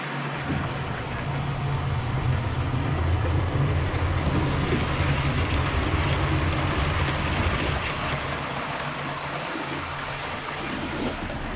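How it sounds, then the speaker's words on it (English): A model test train runs on newly built elevated track, a steady, continuous rumbling whir that holds at a fairly even level for the whole stretch, fairly close and with no voices. "you can see we have the test train going"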